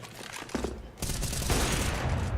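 Pistol gunfire in a Counter-Strike match on de_inferno, CZ75 autos and a Desert Eagle, rings out as a dense, continuous fusillade of overlapping shots from about the one-second mark, preceded by a few scattered reports.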